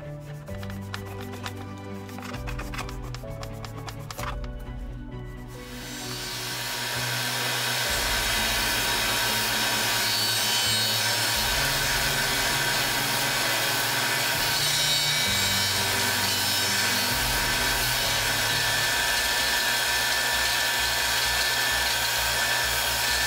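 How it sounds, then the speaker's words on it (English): A belt sander grinds a bevel onto the edge of a handmade axe head, a steady loud whirring abrasive rasp that rises after the first few seconds and runs continuously, with a low motor drone underneath and no talking. "then using my belt sander, I sharpen the axe"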